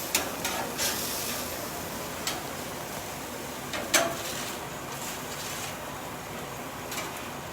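Onions fry in a pan at home with a faint, steady sizzle, broken by a few light clicks and taps of a utensil against the cookware.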